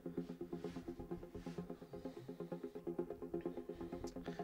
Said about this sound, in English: I have teased one lead, which is a sequenced pattern